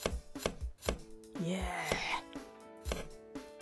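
Knife chopping onions in the cooking video game Cooking Academy Fire and Knives, a quick run of sharp, rhythmic chops over a game chime, with a voice exclaiming and talking between cuts.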